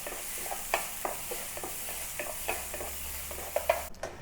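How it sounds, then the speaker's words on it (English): Chopped garlic and scallion sizzle softly in a pan while a utensil stirs them, with occasional sharp clinks of the spatula against the metal over a constant hiss, heard close up with no voices. "And stir until they turn very aromatic, until they smell amazing."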